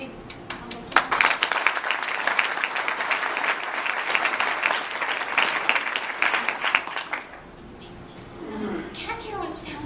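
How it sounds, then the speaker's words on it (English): An audience at an evening charity gathering for a cat care organization breaks into loud sustained applause that fades after several seconds as a speaker resumes talking. "And a big round of applause."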